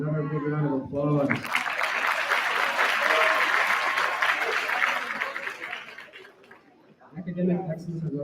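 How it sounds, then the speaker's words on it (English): An audience at an eighth grade graduation ceremony at Andrew Hamilton School gives a sustained, full round of applause, loud and dense for several seconds before fading, with a speaker's voice before and after. "Let's give them another big round of applause."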